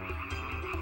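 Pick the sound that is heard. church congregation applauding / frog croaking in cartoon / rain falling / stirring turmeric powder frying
frog croaking in cartoon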